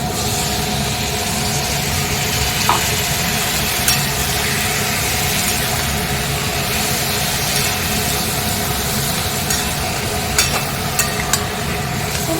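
Potatoes fry in a pan with a paste of ginger, green chilli and garlic plus cumin powder, coriander powder and salt, giving a steady, even sizzle that runs unbroken throughout with no voices.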